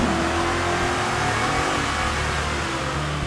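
2011 Ford Mustang GT with a custom tune revving hard on a dyno, a dense, loud, continuous engine roar holding steady throughout the short stretch.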